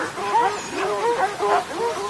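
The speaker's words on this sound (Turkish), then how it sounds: "Köpekler çok güzel." Several dogs barking and whimpering in short, high yips and whines, close and fairly loud, in quick uneven bursts across two seconds.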